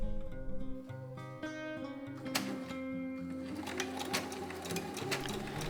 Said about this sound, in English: then I sew right up to the bust point